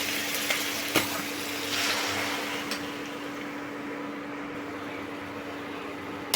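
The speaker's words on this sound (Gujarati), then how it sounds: "ઘી ગરમ થઈ ગયું છે છીણેલી દૂધીને અંદર એડ કરી દઈશું" Grated bottle gourd (dudhi) sizzling in hot ghee in a pan, a steady broadband frying hiss with a brief clatter near the start as the gourd goes in, fairly close with no talking.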